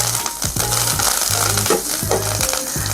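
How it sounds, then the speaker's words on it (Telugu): Dried red chillies and curry leaves fry in a pan with a loud, dense sizzle, broken up by rhythmic scraping and stirring strokes. "ఇట్లా లైట్గా ఎండుమిర్చి కూడా వేయించుకోవాలండి. కొంచెం కరివేపాకు అండి, కొంచెం కరివేపాకు వేసుకొని ఇది కూడా కొంచెం వేయించుకోవాలి."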